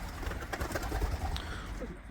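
Pigeons coo softly in low, throaty murmurs inside a coop against a steady background rumble, with a few faint chirps mixed in.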